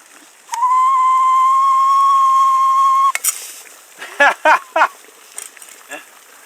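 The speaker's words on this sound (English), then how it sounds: "I'm going to drop this on just so you can hear the whistle." A Ghillie kettle at a rolling boil outdoors lets out a steady, piercing whistle for a few seconds, then it cuts off and a few brief clanks and rattles follow.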